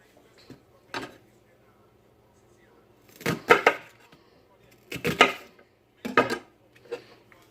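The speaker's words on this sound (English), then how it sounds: "I'm going to chop half of this onion and then add it to it." A knife chopping an onion on a board: sharp clustered cutting knocks in several short bursts with pauses between, close and fairly crisp, quiet background.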